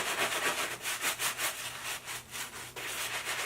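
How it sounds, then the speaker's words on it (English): Vigorous back-and-forth scrubbing with Vicks cleaner to lift dirt, a quick rhythmic rubbing close to the mic, moderately quiet with no talking. "But I'm gonna scrub this down"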